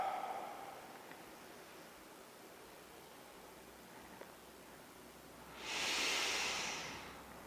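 Slow, steady breathing during a guided breathing exercise, a soft airy hiss at low level that swells into one louder, breathy exhalation near the end.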